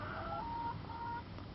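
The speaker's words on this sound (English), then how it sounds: "all my chickens go outside now" Backyard chickens, a small flock kept on a farm in springtime, cluck and murmur softly at close range in a short, faint burst of drawn-out calls with no talking.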